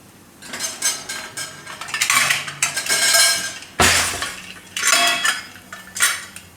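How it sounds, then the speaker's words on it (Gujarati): Repeated metallic clanks and scrapes of a lid being fitted onto a pressure cooker, loud and close, with one sharp bang midway. "કુકરનું ઢાંકણું બંધ કરી દઈએ"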